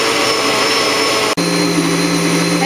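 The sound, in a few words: blender pureeing a spinach smoothie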